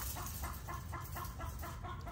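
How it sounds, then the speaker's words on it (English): Chickens in a yard cluck softly in a steady, repeating rhythm over a low background rumble, sounding a short distance away. "My chickens get scared."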